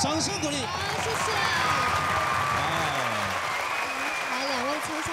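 Studio audience applause on a Taiwanese variety show's dance battle episode, with clapping and cheering mixed under voices and music, continuous and fairly loud throughout.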